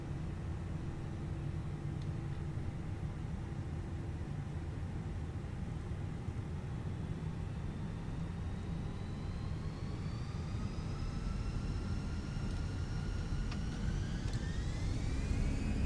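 A Fenix A320 airliner taking off from runway 25 at full length in Microsoft Flight Simulator: steady, loud jet engine rumble with a turbine whine that climbs in pitch toward the end, heard alone with no talk.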